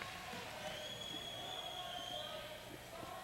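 Loud home crowd at a 1996 North Penn girls high school basketball game against Neshaminy, a sustained roar of cheering and jeers filling a gym, with a buzzing whistle-like tone running through it.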